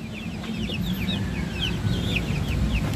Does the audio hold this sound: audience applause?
no